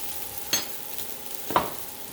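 Pancit bihon with Chinese sausage fries in a skillet: a low sizzle broken by two sharp spatula scrapes about a second apart.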